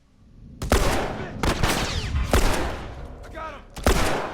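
Gunfire in the video game Grounded: about four sharp, loud bursts of shots spaced roughly a second apart, each with a short ringing tail.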